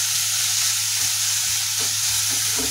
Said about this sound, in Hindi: घिया को मैं 10 से 15 मिनट के लिए इसी प्रकार से भून लूंगी